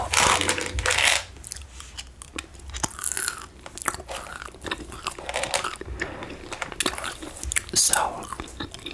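Orbit gum chewed close to the mic in an ASMR session, with wet, sticky crunching and smacking bites repeating irregularly throughout, moderately loud and intimate.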